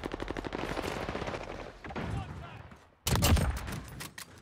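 A rapid string of gunshots in the Warzone video game fades out, then after a brief silence a single loud, close shot cracks with a rumbling tail, and a voice talks over the first part.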